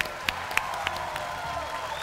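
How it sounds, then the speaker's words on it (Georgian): A concert-show audience applauds a team, a scattered patter of clapping with a few sharper claps standing out over a background of stage music. "და აპლოდისმენტები ამ გუნდს"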